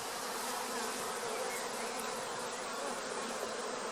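Honey bees on a hive frame buzz in a dense, steady drone, a close swarm humming continuously without pause.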